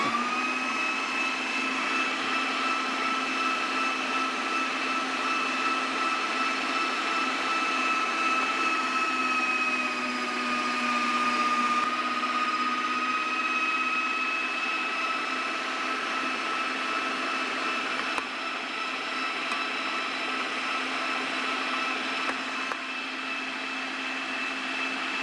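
Steady electric meat grinder whirring continuously as it grinds fatty chicken for carnivore patties, a constant mechanical drone with a high motor whine that holds level throughout, with no talking.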